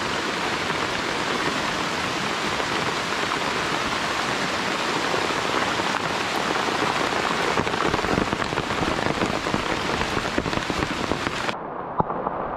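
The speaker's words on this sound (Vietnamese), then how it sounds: "Mưa." Steady heavy rain pours outside in a forest setting, a dense continuous hiss on surfaces with scattered drop impacts, loud and close throughout, cutting off abruptly near the end.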